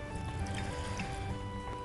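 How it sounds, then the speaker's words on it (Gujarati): Water is poured over boiled mango pulp, a soft continuous trickle and slosh set against a steady electrical hum in a kitchen. "આપણે પાણી નાખીશું, આ પલ્પ ડૂબે એટલું."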